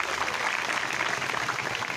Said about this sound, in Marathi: बस, टाळ्या वाजवायच्यासाठी इथं थांब.